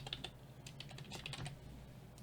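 Keys clatter in quick, uneven bursts as a password is typed on a computer keyboard, the soft clicks close and fairly quiet with no voices.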